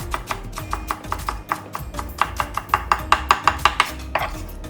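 Onions chopped thinly with a knife on a cutting board while preparing Korean mung bean pancakes: a steady run of sharp, close knocks, speeding into an even rhythm midway, with a soft kitchen hum behind.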